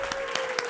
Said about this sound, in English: Can we clap when we see it?